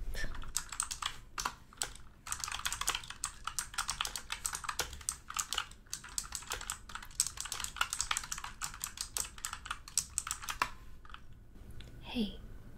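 Rapid typing on a computer keyboard while wearing leather gloves, with dense, close key clicks in irregular bursts and a short pause before a faint sound at the end.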